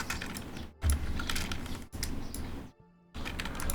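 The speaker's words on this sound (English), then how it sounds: "my keyboard's really loud and I don't really want to stop the stream to type" Rapid clattery typing on a loud computer keyboard during a Wurm Online game stream, dense key clicks in several bursts separated by short pauses, close to the microphone with no speech.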